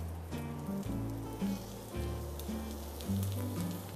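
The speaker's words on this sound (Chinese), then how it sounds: "火在最大的状态下的时候，把鸡肉放进去哦，皮朝下先放进来，一定要有声音哦。" Chicken pieces laid skin-side down in very hot oil over high heat for crispy scallion-oil chicken give off a soft, continuous sizzle beneath steady background music.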